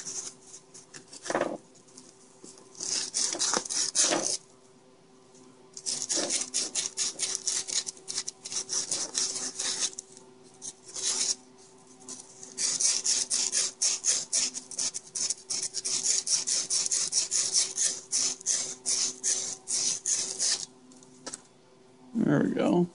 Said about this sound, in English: take some emery cloth, like 1000 grit sandpaper or something, and kind of wrap it around here